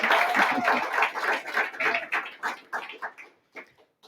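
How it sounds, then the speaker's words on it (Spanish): An audience at a film event applauds director Víctor Gaviria with a burst of close, dense clapping that thins out into scattered claps and fades within about four seconds. "pido un gran aplauso para Víctor"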